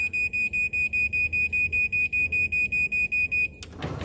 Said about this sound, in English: So all the way up, it beeps a bunch.